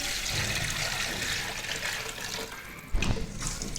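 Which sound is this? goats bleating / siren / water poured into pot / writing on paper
water poured into pot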